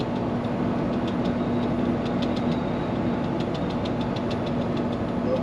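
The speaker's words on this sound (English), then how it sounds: "But we have our engine brakes, Jake brakes, whatever you want to call them, set perfect right now." A truck's engine brake holds a steady, loud, low drone while descending a steep mountain grade, with a continuous rumble and faint ticking on top and no speech.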